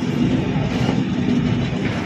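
The Padatik Express rolls into Dalkhola station in the rain, a loud, continuous rumble and clatter of rail wheels with no voices over it.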